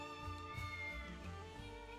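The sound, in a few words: cat meowing in video game Triangle Strategy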